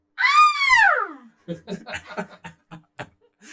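A high, rising-then-falling woman's scream lasting about a second, followed by brief bursts of laughter and chatter, from a podcast recreating a radio drama.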